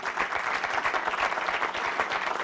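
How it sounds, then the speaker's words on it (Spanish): Loud, dense applause from an audience at a Spanish-language book presentation on crimes against humanity, many hands clapping continuously and close. "Un aplauso para ellos también"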